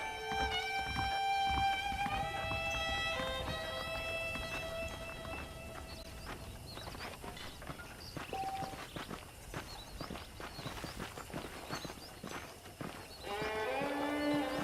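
Horse hooves clip-clop steadily in the Red Dead Redemption video game, a rhythmic stream of near hoofbeats with game music and tones layered over them.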